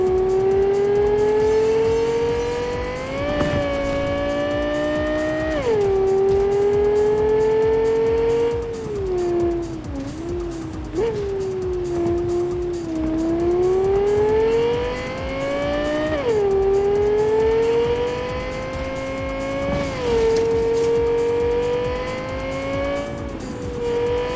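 Racing cars in Cyberpunk 2077 rev loudly and continuously, engine pitch climbing and dropping sharply with each gear shift, with brief tire squeals during a close game race.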